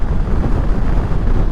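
Steady, loud rumble of wind buffeting a microphone while riding a Suzuki GSX-S1000GT motorcycle at 70 mph on the road, continuous and unbroken throughout.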